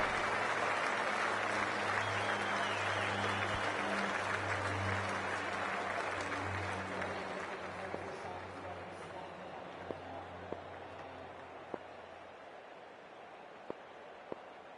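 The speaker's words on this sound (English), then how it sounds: "the crowd is making plenty of noise for the opening game" Crowd noise from the cricket video game Cricket 24 as players come out for an opening game: a broad, steady roar of cheering and applause that slowly fades, with a low tonal hum beneath and a few sharp ticks near the end.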